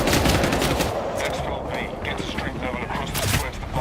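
Rapid automatic gunfire in the shooter game CrossFireX, loud and dense bursts of shots with mechanical clatter running through nearly the whole stretch, close and continuous.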